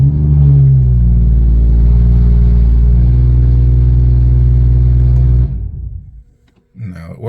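A tuned BMW 340i with a history of misfires runs with a loud, steady engine drone that holds for several seconds, then drops away abruptly before a brief burst of noise near the end.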